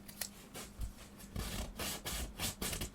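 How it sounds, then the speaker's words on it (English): Sandpaper rubs back and forth on the wooden X bracing of a guitar soundboard, producing close, rhythmic raspy strokes of steady loudness. "you can kind of smooth this quite a bit with sandpaper"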